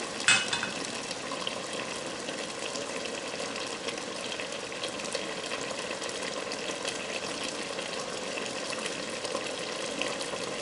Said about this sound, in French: Je laisse mijoter.